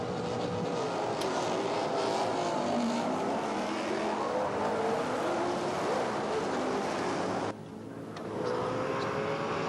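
Loud muscle car engines roar continuously from a distance as the cars launch off the start at Manfeild Raceway, a dense wall of revving that briefly drops near the end.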